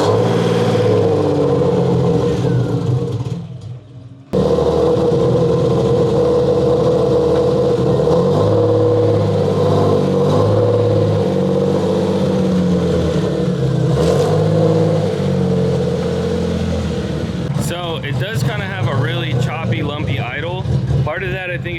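A BMW E30, long left sitting dirty with flat tires, cranks and starts, then idles and revs with a steady mid-pitched engine drone, loud and close, with a brief dropout and someone talking over it.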